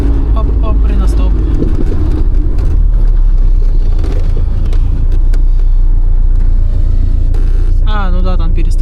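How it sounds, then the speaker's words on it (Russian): Engine of a car with a loudly noisy camshaft, suspected of a knock under the hood, a constant heavy rumble heard from inside while driving through town, with someone talking over it. "Распредвал вообще шумит очень жестко. Очень громко."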